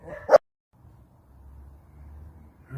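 Dogs in a dog alley give a single sharp, close bark, then fall silent while a low, steady rumble continues quietly until another sound begins at the end.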